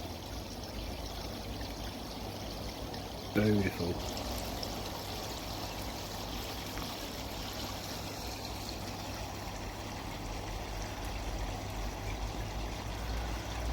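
A steady, soft wash of water trickles from a koi pond's in-pond return beneath a shower feature, continuous and faint, broken once by a brief spoken word.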